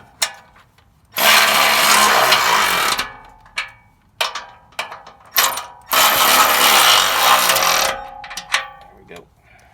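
Bolts are tightened to draw a Carnivore bumper onto its brackets on a Jeep Wrangler JL: two long bursts of loud, close mechanical rattling, with sharp metallic clicks and clanks between and after them.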